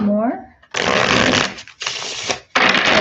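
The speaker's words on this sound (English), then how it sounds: "I love the way these cards shuffle. They're just so smooth." A deck of tarot cards is shuffled in three loud, smooth riffling bursts, each a dense rush of papery flutter, preceded by a brief voice.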